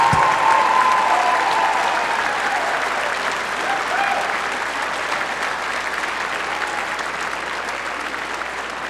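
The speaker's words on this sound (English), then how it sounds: "please join me in a huge round of applause for the mentors and coaches and teachers" An audience at a FIRST Robotics Competition regional opening ceremony applauds loudly and continuously, the clapping of a large crowd gradually tapering in intensity over several seconds.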